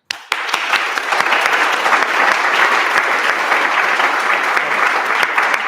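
Attendees at the Kallista Village inaugural meeting break into applause, which begins with a few sharp claps. It builds at once into dense, sustained clapping from a roomful of people that holds steady to the end.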